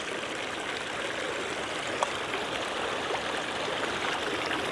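A stream flows steadily beside the riverside, a continuous broadband wash of water with faint trickles, close and even throughout with no talk.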